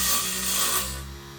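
A Vevor HS001 mini wood lathe spins steadily with a motor hum while a tool scrapes the turning wood in a brief, close hiss that fades toward the end.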